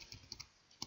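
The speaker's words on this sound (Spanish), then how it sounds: "Vamos a teclear partition" A few quiet keystrokes tap on a computer keyboard, three or four soft clicks in under a second, close but faint.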